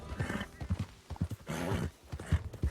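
Horse hooves clip-clopping in a quick rhythm with a horse neighing, set against a busy Red Dead Redemption 2 soundscape, fairly quiet overall.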